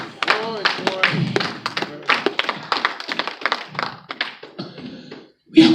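A church congregation at a sermon in Italy claps for Jesus, a run of sharp rhythmic claps mixed with voices, close and lively, ending with a brief pause and a louder final sound.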